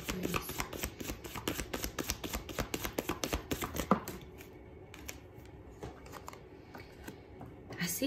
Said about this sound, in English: Let me get one more card of the advice.